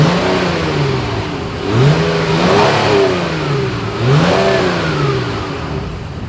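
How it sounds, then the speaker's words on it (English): A 2020 Honda Pilot V6 SUV revs up twice through its exhaust, rising in pitch each time and settling back between pulls, loud and close with no talking. "As always, here is that exhaust clip."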